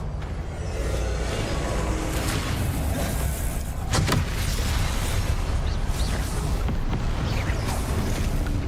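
Sustained roaring blast of the Confringo fire spell in Hogwarts Legacy, loud and continuous with a sharp crack partway through, no talk.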